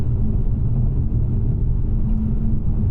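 A 2024 Mazda CX-30 Turbo Premium Plus crossover driven hard through canyon corners, heard from inside as a steady, loud low engine and road rumble with no talk.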